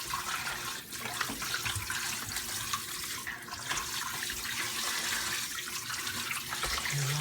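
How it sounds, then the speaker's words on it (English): Cool tap water runs steadily into a sink as raw meat is rinsed under it, a continuous splashing hiss with occasional gurgles and handling sounds, close by. "Always rinse your meat in cool water."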